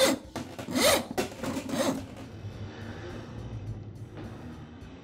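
A worn cable from a Ridgid drain auger, 3/8 inch by 100 feet, rasps and scrapes as it is pulled from the machine's drum in a few loud rubbing strokes that fade into quieter scraping.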